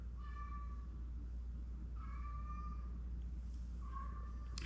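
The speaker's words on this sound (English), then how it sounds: "I don't know what Herbert's meowing about, or whether you can hear that." A domestic cat meows three times, each call a drawn-out harmonic cry spaced about two seconds apart, heard indoors over a steady low background hum with no talking.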